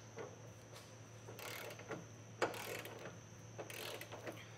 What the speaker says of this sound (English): A 1/2-inch torque wrench is going to be key as far as getting those torque settings.